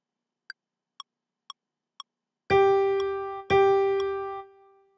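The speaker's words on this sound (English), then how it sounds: "playing only half notes would sound like this" Four soft metronome ticks count in, then two sustained, bright pitched notes ring out, each held for two beats and fading, like half notes filling a 4/4 measure.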